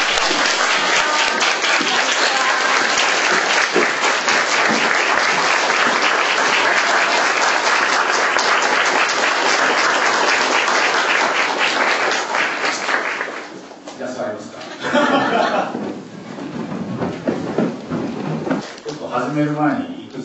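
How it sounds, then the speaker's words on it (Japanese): A crowd applauding as a guest lecturer, a confectionery company president, is welcomed at a talk event, sustained loud clapping for about thirteen seconds before thinning out into scattered claps as people begin talking. "皆さん拍手。"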